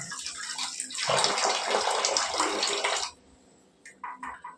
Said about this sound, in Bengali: জলের স্পিড সেরকম নেই আস্তে আস্তে পড়ছে পড়ছে এটাই অনেক কেননা জল উপরে ওঠেই না জলের প্রেশার সেরকম থাকে না